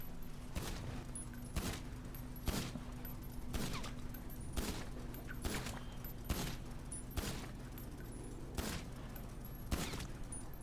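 AP pistol gunfire in the GTA video game, armed target test: nine sharp evenly spaced shots at roughly one-second intervals, each a crisp broadband crack over a steady low game hum, with no talking.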